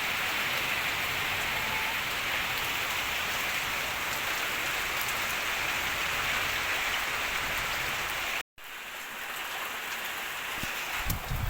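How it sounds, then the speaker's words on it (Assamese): Heavy morning rain pours onto a tin roof in a flooded village, a loud, unbroken drumming hiss that cuts out briefly near the end and then resumes. "আপোনালোকে চাব পাৰে বৰষুণ আহি গ'ল"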